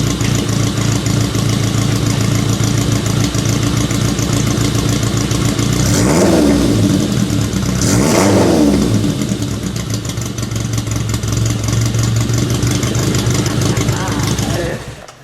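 A 1965 ASA 1000 GT Spider engine idles steadily up close and then revs twice in quick succession before settling back, with voices talking faintly over the running engine.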